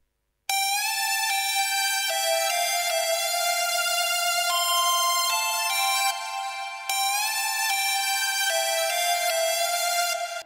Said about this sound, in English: I just added a new lead and it is sounding like a harmony of the lead